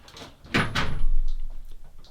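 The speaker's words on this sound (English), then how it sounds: "let me shut this door. We don't want to hear that." A door is pushed shut indoors, giving a single solid close thump with a short low rumble after it, followed by a few faint small knocks.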